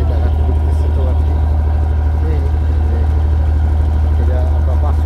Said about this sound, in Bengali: এই যে ঢাকাতে ঢুকতেছে ট্রলারটি